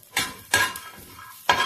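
Ginger, garlic and chillies stirred in a pan with a utensil: three distinct scraping strokes against the metal, close and crisp, with a faint sizzle between them.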